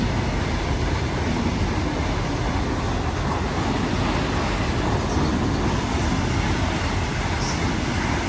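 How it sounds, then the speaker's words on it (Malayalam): A steady, loud rumbling roar of a train rolling past close by, continuous throughout without any voices. "നമ്മൾ കാത്തിരുന്ന ട്രെയിൻ വരുന്നുണ്ട് കേട്ടോ"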